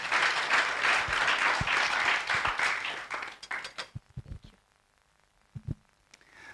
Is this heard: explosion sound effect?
no